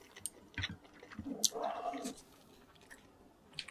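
Soondae, Korean blood sausage, being chewed close to the mic, soft wet bites and mouth clicks in a short burst, then quieter smacking.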